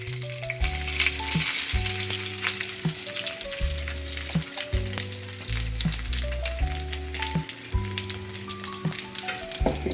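Crushed coconut frying with curry leaves and dried chillies for a pounded chutney, a steady close sizzle with stirring scrapes throughout, no voices.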